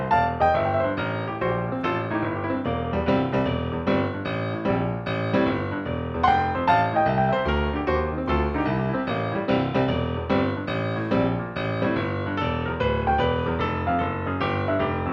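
A blues piano plays a steady riff over a rolling bassline, with even rhythmic chords repeating alone throughout.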